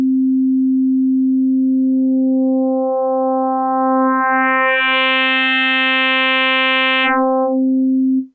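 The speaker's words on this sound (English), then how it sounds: "This is indeed frequency modulation, and the sine wave is modulated with its own copy." A Yamaha Montage M synth plays a sustained sine tone that blooms into bright, buzzy harmonics as self-modulation FM is dialed in, then drops back to a pure tone near the end, alone and loud.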